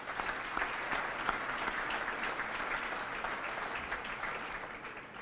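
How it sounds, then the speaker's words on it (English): An audience clapping at a live awards ceremony, a steady, moderately distant wash of applause that holds evenly for about five seconds and fades slightly at the close. "So why don't we give them a round of applause?"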